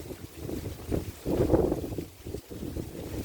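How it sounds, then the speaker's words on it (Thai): Strong wind ahead of rain buffets the microphone in rough, rumbling gusts, swelling and easing over a few seconds with no voices. "ลมแรงเลยครับ"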